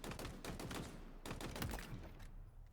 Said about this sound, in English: Commando is one of the only automatic precision weapons in all of Halo